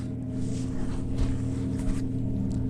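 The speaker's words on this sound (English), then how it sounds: "Oh, that boat sounds mean." A motorboat engine on Puget Sound, heard as a steady, fairly loud low drone that holds through the whole stretch with no pauses and no voices.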